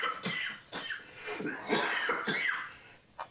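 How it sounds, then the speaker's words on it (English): Several rough, harsh coughs in quick succession from a man whose cough is worsening, fairly close, with wheezy breaths between the bursts and a final short cough. "That cough is just... It's getting worse."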